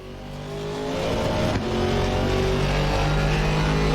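An Aston Martin V8 race car in the ACC racing game revs hard and close, its engine roar building and holding a loud, steady drone with rising harmonic tones, no talk.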